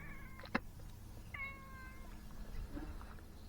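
A cat meows several times, short drawn-out cries standing out over a quiet, low background hum, fairly faint and close by.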